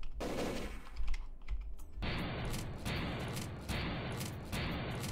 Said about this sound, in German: Warum schießt du so schnell? Du bist eine Pistole.